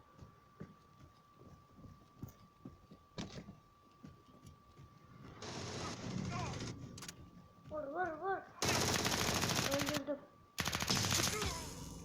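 Gunfire in the Area F2 video game: loud bursts of shots from close by between quieter stretches, with game effects and some voice sounds mixed in.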